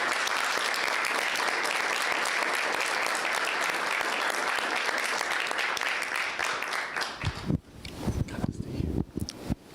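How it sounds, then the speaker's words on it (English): Dense applause from an audience at a corporate startup awards ceremony fills the room for about seven seconds, then thins into scattered claps before dying down. "Let us all clap our hands and raise our glass to celebrate"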